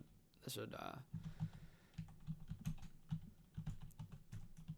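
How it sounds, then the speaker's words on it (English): Quick bursts of computer keyboard typing, close and crisp, with short pauses between runs of keystrokes, under occasional quiet talking. "I should just type in sulfuric acid"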